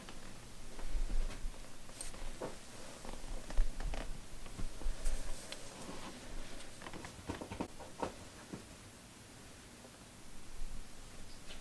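A male cat purrs softly and steadily while batting at a makeup puff, with light rustling and patting mixed into the low continuous rumble.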